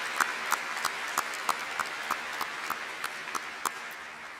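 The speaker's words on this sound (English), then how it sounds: "Please give them a round of applause" Audience applause at a Black Hills State University spring 2024 commencement ceremony, a steady, fairly distant wash of clapping with a few sharper claps popping out at regular intervals.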